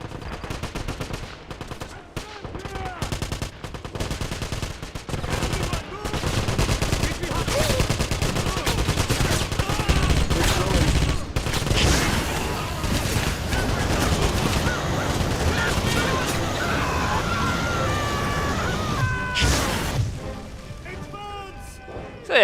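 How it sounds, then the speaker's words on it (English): A Flammenwerfer flamethrower fires continuously in Wolfenstein, producing a loud, dense roaring rush with crackling bursts and impacts that holds for most of the stretch before briefly dropping out near the end. "using the Flammenwerfer like that, firing continuously, is quite fun"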